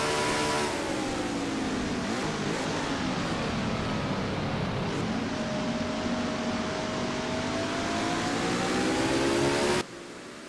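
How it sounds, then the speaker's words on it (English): A race truck engine held at full throttle in a sim racing video game truck series, giving a loud, continuous high-pitched drone that stays steady for about ten seconds before cutting off abruptly. "Running the floor to throttle on that 24 truck"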